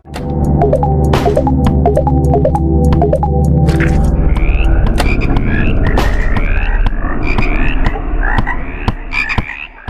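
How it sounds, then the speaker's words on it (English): Loud, relentless croaking repeats in quick pulses, layered with low tonal throbs, sounding like many frogs calling at once, in the video game House, with no talking. "the music will change into a constant croaking noise"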